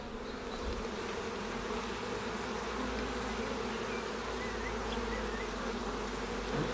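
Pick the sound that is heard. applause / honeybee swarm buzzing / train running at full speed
honeybee swarm buzzing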